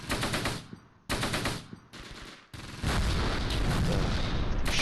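Gunfire and artillery in the Close Combat World War II video game: several loud bursts of rapid shots with short gaps, followed by sustained heavy firing and rumbling booms.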